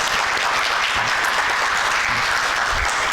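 Guests at a scholarship luncheon break into continuous, even applause, a thick, loud bed of many hands clapping with no pauses across the whole span.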